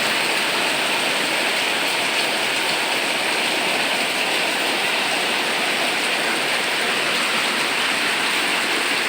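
Heavy rain pours down as a loud, steady, broadband hiss that fills the whole stretch without any break.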